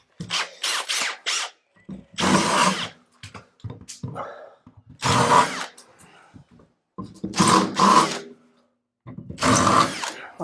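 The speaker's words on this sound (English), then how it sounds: "We're now going to drill through the 5mm with a 10mm bit" A power drill with a 10mm bit bores through a 5mm insulated metal panel during a garden room build, sounding in several loud, separate bursts.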